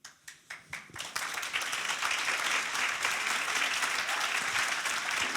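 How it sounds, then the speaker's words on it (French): A few isolated claps quickly swell into sustained applause from an audience, continuing steadily to the end. "Ça mérite effectivement un applaudissement"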